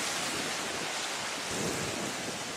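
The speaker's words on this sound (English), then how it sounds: "Look at the wind." Strong wind gusting through a park, a dense, steady rushing roar buffeting the microphone throughout, with no voices.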